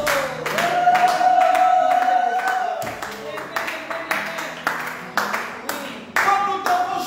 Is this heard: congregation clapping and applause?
yes